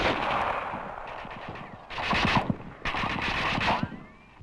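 Rifle fire in 1945 combat in the Pacific war crackles in two bursts of rapid, distant reports amid wind noise, with a short pause between them and no talking.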